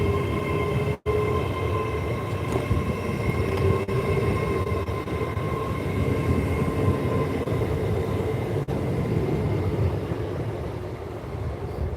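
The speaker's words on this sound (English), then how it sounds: "you will now see the LNER service leave" Steady low rumble and rolling hum of an LNER passenger train pulling out of Peterborough station, heard from the platform at moderate distance, continuous throughout with a faint high tone and no talking.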